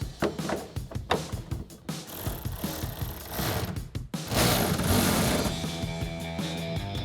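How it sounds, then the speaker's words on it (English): A 14mm socket ratchet tightening a tonneau cover rail clamp on a 2021-2025 Ford F-150, with rapid uneven clicking strokes up close, then a denser continuous rattling run in the second half. "grab a 14mm socket to tighten it down"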